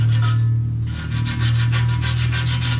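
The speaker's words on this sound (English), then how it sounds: "so I'm going to sand that" Sanding on an AC fan motor shaft gives a steady rhythmic rasping, close and loud, with rapid back-and-forth strokes over a constant low hum and a brief pause near the start.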